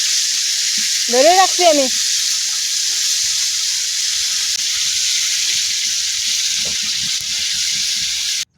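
Fish frying in hot oil, a steady broad sizzle running the whole time, with a brief voice near the start and faint handling sounds.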